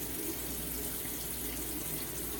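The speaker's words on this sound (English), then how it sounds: "I just add a little bit of water to it" Bathroom tap water running steadily into a sink while wetting a face for shaving, a continuous close hiss and splash with no talk.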